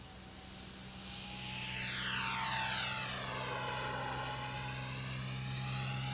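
An XFly Twinliner model airliner with twin 40mm electric ducted fans flies past, a steady high whine that swells and sweeps in pitch as it nears and recedes, over a low background hum.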